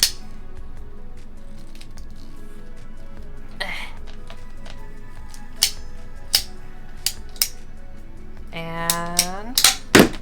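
PVC pipe being cut for an overhead camera mount: a series of sharp, separate clicks and snaps from the cutter, then a quick cluster of ringing plastic cracks as the pipe parts, against quiet room noise.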